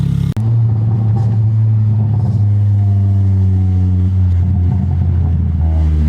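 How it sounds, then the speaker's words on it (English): A Honda Accord with an aftermarket cat-back exhaust drives with a deep, loud, close rumble that rises and falls as the engine revs up and eases off, with a few small crackles near the end. "So let's go for a test drive and see how it sounds."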